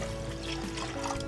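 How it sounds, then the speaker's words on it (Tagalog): About three cups of plain water pour into a pot for Pancit Molo broth, a continuous splashing gush at moderate level. "Ating pakukuluan ito gamit ang ordinary tubig lang. Mga 3 cups of water."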